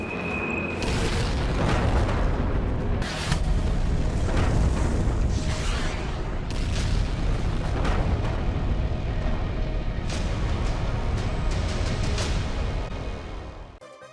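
Missile strike explosions on militant camps, a loud, continuous, dense rumbling roar with repeated heavy booms layered throughout, sustained for the whole stretch before fading at the end.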